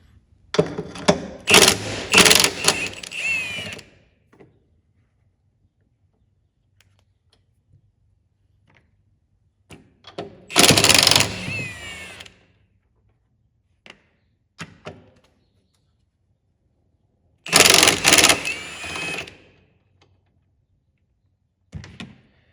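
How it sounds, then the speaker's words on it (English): A power tool spins off the three 13mm strut nuts on a Chevrolet Malibu front strut, loud bursts of whirring and rattling in three separate runs with quiet pauses and small clinks between. "And now with our 13mm, there'll be 3 nuts up here that we need to take loose."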